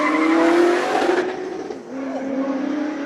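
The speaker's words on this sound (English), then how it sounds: "Rear-wheel drive, 7-litre V8." A rear-wheel-drive race car with a 7-litre V8 at a hill-climb sprint event, its engine note loud and close, climbing in pitch as it accelerates with some tyre squeal before briefly easing and pulling again.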